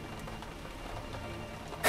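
Steady rain and wind during a horror story narration, a continuous soft wash of falling drops with no voice, ending in a sudden louder burst.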